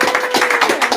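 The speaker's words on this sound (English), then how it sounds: "Actually, big round of applause." An auction audience breaks into a short burst of applause, dense rapid hand claps close by, brief and lively.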